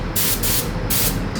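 Adhesive promoter sprayed from an aerosol can onto a Mercedes car panel before paint blending, several close, loud hissing bursts of spray in quick succession.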